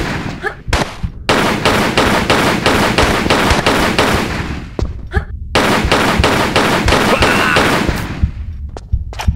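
Rapid bursts of gunfire from the video game Tomb Raider 3, loud and close, in two long volleys of fast repeated shots with brief gaps and scattered single shots, no talk over them.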